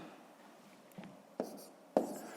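A pen scratches numbers onto paper, faint and close, in a few short strokes with sharper taps that grow stronger toward the end.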